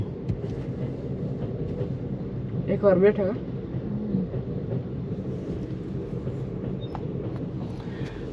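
A low, continuous rumble of a moving train car fills the background as a person talks nearby, with a brief louder voice midway.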